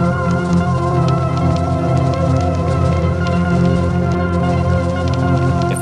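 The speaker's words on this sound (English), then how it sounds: "I've got Tapes.01 pulled up with the sequencer patch" A Tapes.01 sequencer patch plays a dense, continuous drone of layered tones with a rich low end and faint flickering detail above, steady and loud throughout with no speech.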